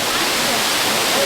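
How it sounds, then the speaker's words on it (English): Steady, loud rushing roar of a tall waterfall on the Lemosho route of Kilimanjaro, Tanzania, a dense unbroken hiss of falling water heard up close with no break. "Second highest waterfall in Tanzania."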